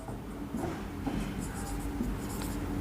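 Chalk or marker scratching across a board while math working is written out during a class-12 lesson, a steady close scraping with brief strokes and soft background hum.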